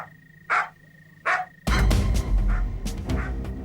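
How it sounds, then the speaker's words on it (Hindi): A dog in an indoor TV crime-drama scene barks twice, sharp and evenly spaced, over a low steady hum, followed by a loud burst of dramatic music and clatter. "ये टिम्मी क्यों भौंक रहा है?"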